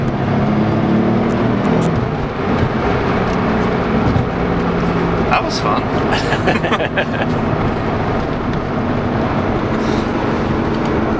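Nissan 300ZX Z32 twin turbo with a swapped engine accelerating on the road, heard from inside the cabin as a steady, loud engine drone with road rumble throughout; a voice speaks briefly near the end.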